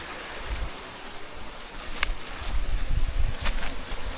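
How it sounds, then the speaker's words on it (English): Water running in a stream beneath a bridge on a wooded trail at Mt James, St Andrew, Jamaica: a steady broadband rushing wash, moderately loud and continuous, with a few faint sharp ticks and no talk. "There's water running down there."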